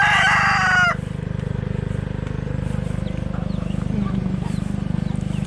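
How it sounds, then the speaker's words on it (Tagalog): A household rooster crows loudly and close for about a second at the start on a rural farm, then a steady rhythmic mechanical hum carries on beneath faint distant bird calls. "Manok namin."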